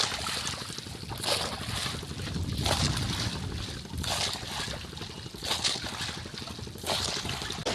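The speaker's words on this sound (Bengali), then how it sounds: "আর তার মাঝে মাঝে একটা জাহাজ চলে এসছে" A ship passes on a river near a small fishing boat laying nets, a broad steady rumble of engine and water under gusting wind noise.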